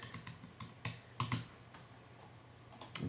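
Keys clatter on a Mac computer keyboard as a short message is typed, with quiet, irregular clicks in small bursts and some sharper taps, close and faint, with no one speaking.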